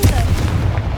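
Confringo, the fiery explosion spell in Hogwarts Legacy, goes off as a short, loud, punchy blast with heavy low-end rumble and crackling bursts, close and dense within a single second.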